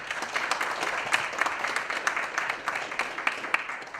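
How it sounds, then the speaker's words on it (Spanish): An audience at a microelectronics technology conference claps for a speaker: a fairly quiet, steady patter of hand claps with distinct individual slaps, lasting the whole stretch without talk. "Demos un fuerte aplauso"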